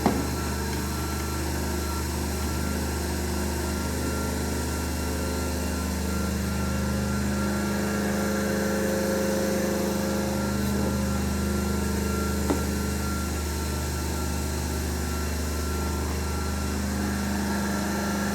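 Three-phase alternator in a lab test setup running near 1500 RPM, giving a steady, continuous mechanical hum and whine with a constant low drone throughout, nearby and without talk.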